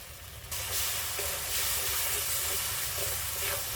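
Spice paste frying with a little water in a pan for a paneer curry, a loud steady steaming hiss and sizzle that swells after a brief quieter start, with no talking.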